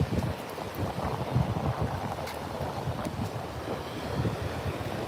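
Gusty wind buffets the microphone on a beach in a constant rumbling roar, with a wash of surf-like noise underneath and no voices.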